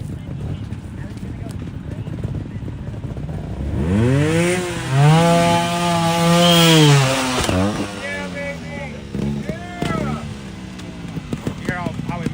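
Trials motorcycle engine at an NATC event in California revs and pulls under load, its rising and falling harmonic drone building from a quiet start to a loud, sustained surge, then settling into choppier bursts; crowd noise and talk sit underneath.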